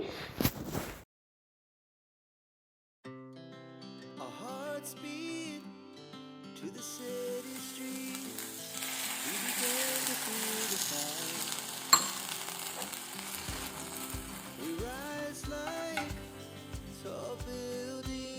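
Vegetables fry in a pan with a splash of water, a steady soft sizzle building after a short silent gap, with occasional stirring clinks and a few low knocks toward the end.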